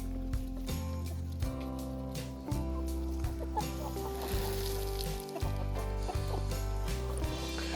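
Laying hens cluck repeatedly over a steady low mechanical hum, the calls close and fairly loud, with brief gaps in the background drone.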